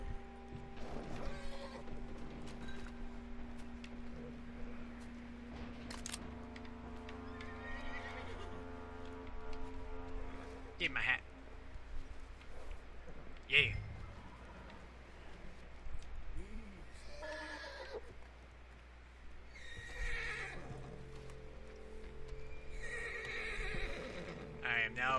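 Horses whinny and neigh several times in the video game Red Dead Redemption 2, with clip-clopping hooves and shifting mechanical noises between the calls, all fairly close.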